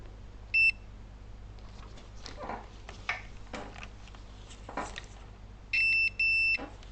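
Sharp electronic beeps sound during diagnosis and repair of a Lenovo Yoga 2 13 motherboard (ZIVY0 LA-A921P), one short tone early then two longer ones near the end, amid quiet handling clicks and rustling.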